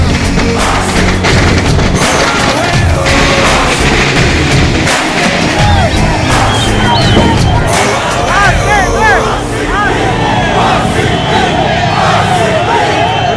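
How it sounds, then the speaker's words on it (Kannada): A dense, loud crowd in Bengaluru celebrating RCB's 2025 final win over PBKS shouts and cheers continuously while sharp firecracker bangs and crackling pops burst through the din at irregular moments. "ಪಟಾಕಿ ಏರಿಯಾ ತುಂಬ ಪಟಾಕಿ ಹೊಡಿತಾರೆ."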